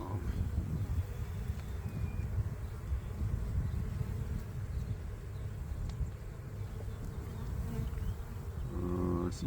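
Honeybees buzz steadily at an open hive during a spring inspection, a dense continuous drone close to the microphone with light wind noise and no talking.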